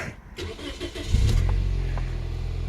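A Scion xB engine starts up after a new drive belt install: a brief cranking whir gives way to a loud, steady idle with no belt squeal, close by.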